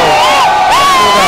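Atlético football supporters cheer and chant in a stadium in Campinas, a brief, loud, sustained wall of massed voices with a sung melodic line rising over the crowd.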